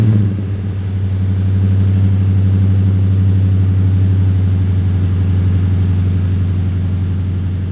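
A Toyota Tundra with a loud aftermarket stainless exhaust idles after a cold start, a steady deep rumbling drone that stays close and even throughout, with no talking.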